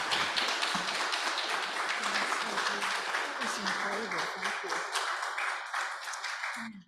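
An audience gathered in a room for poet Joan Larkin claps in a warm, steady round of applause, with voices murmuring underneath before it stops abruptly.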